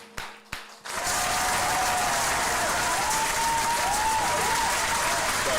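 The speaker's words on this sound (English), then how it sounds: "Y'all give another round of applause for the Most High." Loud, sustained applause from an audience at a Sabbath class fills the room after two brief opening claps, dense and steady to the end, with faint tones and a few voices underneath.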